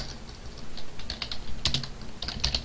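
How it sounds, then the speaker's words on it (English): Java code is typed on a computer keyboard in quick, uneven runs of close, crisp key clicks, alone without talking. "Let's go ahead and type private"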